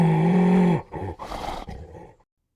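An unseen jungle creature in an adventure tale gives a deep, rumbling growl that rolls like distant thunder, followed by a few short, rough grunting bursts, all fairly close and loud.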